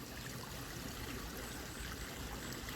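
Water runs steadily down a homemade fake rock waterfall, giving a constant, even trickling and splashing wash at moderate distance with no pauses and no voices.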